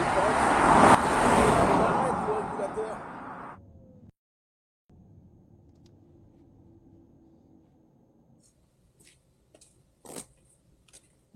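A Renault Scenic electric car coasts to a stop during a test, with loud rushing road and tyre noise that cuts off after a few seconds into near silence and a few faint distant clicks.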